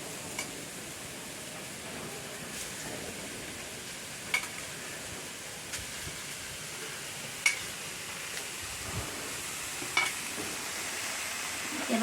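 Leafy greens fry in a pan with onion, garlic and chilli, giving a steady close sizzle throughout, broken by occasional light clicks of stirring, with no talking.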